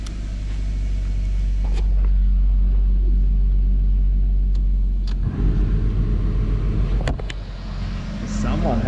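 A car engine rumbles steadily at idle after the ignition is switched on, a loud low drone running throughout with brief knocks and rattles on top and voices nearby.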